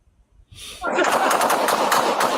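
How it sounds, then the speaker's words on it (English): After a brief quiet moment, a loud burst of rapid gunfire erupts and continues as a dense, crackling volley of shots close by. "This was the terrifying moment gunfire exploded during the confrontation"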